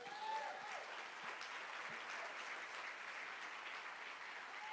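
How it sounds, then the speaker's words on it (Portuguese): Steady applause from a church congregation, a continuous wash of clapping at moderate distance with a brief voice at the start. "Aplauda Jesus."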